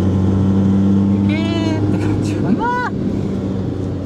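A car engine idling steadily as it warms up, then pulling away, with a person talking over the low engine drone.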